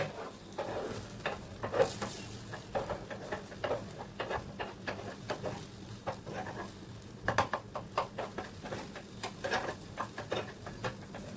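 Egg is stirred in a hot frying pan, with soft irregular scraping and tapping of the spatula over a faint sizzle, quiet and close with no talk.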